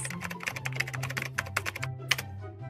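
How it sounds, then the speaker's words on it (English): Quick, uneven clicks of keys pressed on a computer keyboard. The taps come in a rapid run with short pauses, close and crisp, over a low steady hum. "Type jellyfish into the search box."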